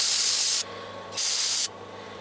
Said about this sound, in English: I'm going to spray it with some carb cleaner